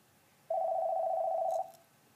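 A telephone gives one clean electronic ring during a geometry lesson on proving theorems, a single steady beep lasting about a second against a quiet room.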